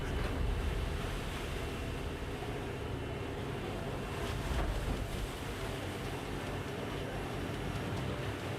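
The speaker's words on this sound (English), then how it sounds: "sound of waves, the pressure of time and survival instinct urge them to go out to sea" Ocean waves at sea around a crab fishing boat, a continuous broad rush of water and wind buffeting the microphone, steady and loud with occasional surges.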